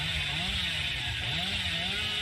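The Hillbilly's chainsaw in Dead by Daylight revs in a continuous rough buzzing drone with slight wavering pitch, steady and moderately loud, with no one talking.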